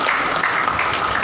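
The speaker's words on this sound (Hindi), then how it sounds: "ताली बजा के प्रभु के नाम की महिमा करें।" Audience hands clapping together at a Hindi Bible study gathering, a dense, steady wash of applause that runs without a break from start to finish.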